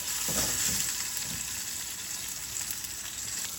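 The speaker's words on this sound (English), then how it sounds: "it's time to sear our tuna for about 1 minute each side" Sesame-crusted ahi tuna steak searing in hot oil, a continuous soft sizzle with a few brief crackling bursts near the start, quiet and close with no voices.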